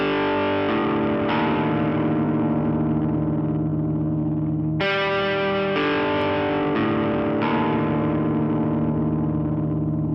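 Heavily distorted electric guitar chugs through a riff, played twice with sustained ringing chords and a brighter section in the middle, loud and steady with no voices.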